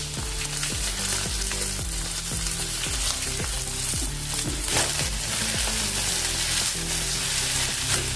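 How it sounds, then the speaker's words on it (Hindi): Onions frying in oil in a pan over cumin and mustard seeds for a dhaba-style chana dal tadka, giving a steady, dense sizzle that runs unbroken and fairly loud, with no voices. "इसको कलर आने तक भून लेंगे अभी प्याज को"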